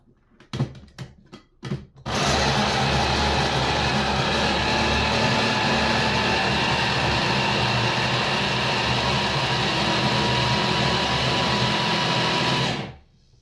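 A food processor purees apple for sugar-free waffles, whirring loudly and steadily up close for about ten seconds after a few short clunks, then stopping abruptly.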